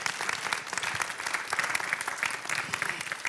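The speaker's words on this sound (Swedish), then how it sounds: "Applåd för Malin." A seminar audience on rural cultural life applauds in a hall, a steady burst of many hands clapping at moderate distance for the whole stretch.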